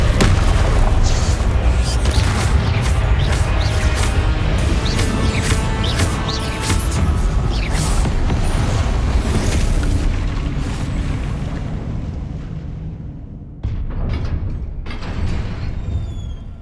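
Confringo spell blasts in the video game Hogwarts Legacy, a loud sustained roar of booming explosions and crashing debris that gradually fades, with a fresh burst near the end.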